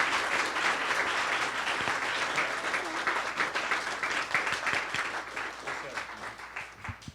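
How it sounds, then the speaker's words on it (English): Sustained, dense applause from an audience honoring panelists at an outdoor women's justice and inclusion event, steady and full for several seconds before trailing off. "I would like to give a round of applause for our fabulous panelists"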